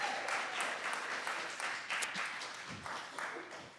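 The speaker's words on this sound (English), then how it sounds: "We can do that applause, that's fine" Applause from people in a city council chamber right after a bill passes with eight votes in favor, a dense, steady patter of many hands that fades gradually over about four seconds.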